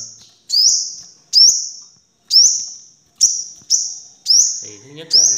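A caged five-colored sunbird gives seven sharp, bright chirps, evenly spaced and loud at close range, with a quiet voice starting under the last call.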